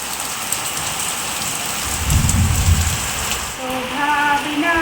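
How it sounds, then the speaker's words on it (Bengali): Heavy monsoon rain pours down steadily on a village home with a dense hiss and a brief low rumble; faint music begins near the end. "চারিদিকে একদম মুসলধারে বৃষ্টি পড়ছে"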